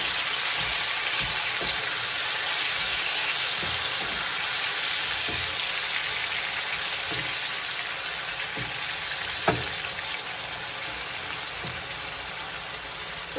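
Food frying gently in a pan on low heat, a continuous close sizzle with scattered small pops and crackles throughout, no voices.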